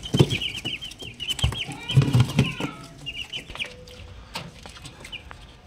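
Chickens kept inside a pigeon house cluck and squawk close by, with busy overlapping calls and occasional wing flaps in a cramped wooden coop. No voices are present.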